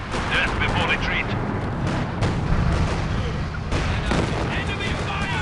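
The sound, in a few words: ISU-152 artillery and gunfire in the video game Company of Heroes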